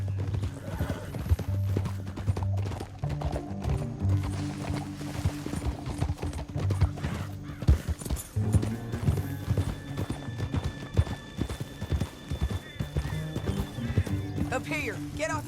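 Horse hooves clip-clop steadily in Red Dead Redemption 2 as riders travel through a canyon, with occasional whinnies, a music bed underneath and characters talking over the steady rhythm.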